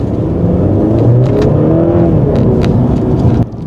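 A 2023 Mercedes C300 accelerates in Eco mode, its engine revving with a rising, fairly loud whirring drone up close before the sound drops off abruptly at the end.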